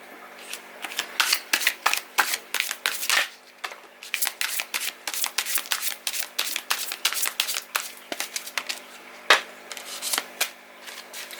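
Tarot cards being shuffled by hand, a steady run of crisp riffling and slapping bursts close by, repeating rapidly with short gaps and no talking.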